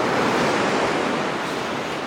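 Steady roar of ocean waves and surf at a fishing spot by the sea, loud and continuous with wind noise against the microphone, no voices.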